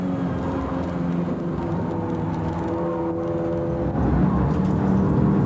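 Inside a race car at the 1996 Neon Racing Cup in Norway, the engine drones steadily and loudly throughout, its tone shifting slightly as the car moves along, with no voices.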